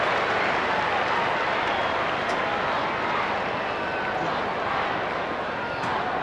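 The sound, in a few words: crowd applauding at an Australian football match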